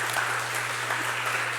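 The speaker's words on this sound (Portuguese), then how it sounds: "Dá uma salva de palmas para Jesus." Church congregation applauding together as one steady, continuous wash of hand claps, moderately loud, with no voices standing out.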